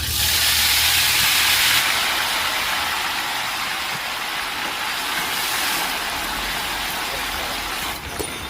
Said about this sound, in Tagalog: Kailangan mong halu-haluin dito sa kumukulong mantika.